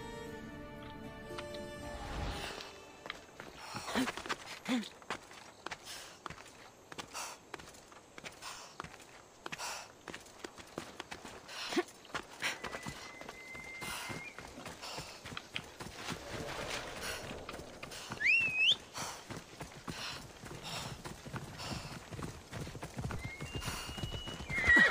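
Horse hooves clip-clopping in Assassin's Creed Odyssey, rhythmic and close, with a loud neigh near the start and a few more whinnies and snorts later, no speech.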